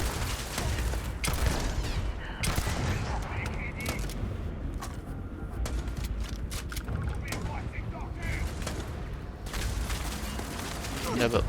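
Turret gunfire in the game Starfield crackles in repeated bursts of sharp shots, some near and some distant, alongside booming impacts, with someone talking over the action.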